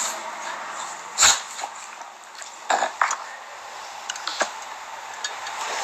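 A dog makes a few short, close whimpers and yips, spaced irregularly over a steady background.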